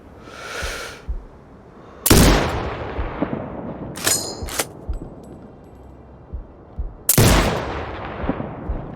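Several loud, sharp sniper rifle gunshots from the video game Sniper Ghost Warrior Contracts 2 ring out with long reverberant tails, spaced a few seconds apart over a steady background hum, with a few smaller clicks between.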